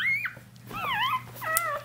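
A red male puppy whimpers in close, high-pitched whines that rise and fall in short bursts, with brief pauses between them and no talking.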